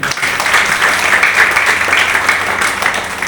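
An audience claps steadily at a business seminar, a dense, even wash of applause lasting a few seconds without a clear break.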